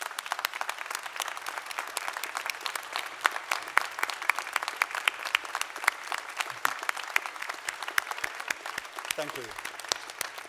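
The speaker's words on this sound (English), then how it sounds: "So we'll give them a clap" Graduates in a university auditorium clap for the audience with crisp, scattered, continuous applause at moderate distance, while someone speaks briefly near the end.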